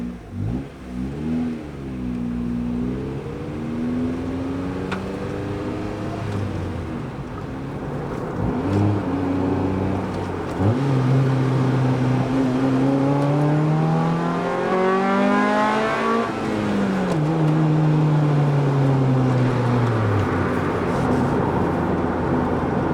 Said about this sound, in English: the VTEC kicks in really nicely, gets you right through the RPM range